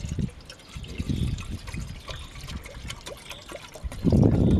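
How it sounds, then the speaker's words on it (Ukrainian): Water trickles and pours into an ordinary camping pot, a close, uneven gurgling stream that swells louder toward the end. "Набираємо водичку в казанок, звичайний туристичний."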